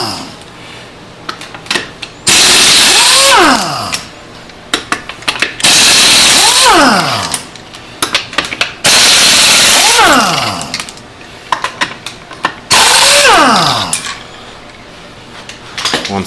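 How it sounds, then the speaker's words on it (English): An impact driver loosens lug nuts on a Nissan Murano wheel in four loud bursts of rapid hammering, each winding up and down in pitch, separated by short quiet gaps. "you can use an impact driver, which is even easier"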